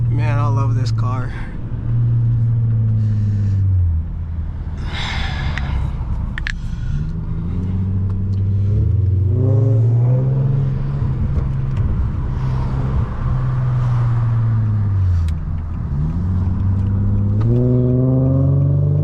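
A 400 hp Infiniti G37 engine rises and falls in pitch through repeated accelerations while driving, the drone close and loud inside the car, with someone talking over it at times.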